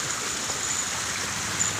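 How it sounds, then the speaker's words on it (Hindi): Water flowing at the zoo in Lucknow, a continuous loud rushing hiss like a stream or small waterfall, steady and close with no speech over it. "और पानी कुछ इस तरह का आ रहा है, इसकी आवाज़ आ रही है।"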